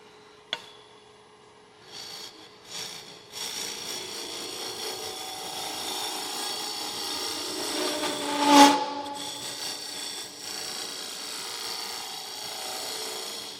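A carbide turning tool cuts into wood on a lathe, working from the inside out to the rim, giving a steady close rasping scrape that builds and peaks with a sharp squeal before easing, with no talking.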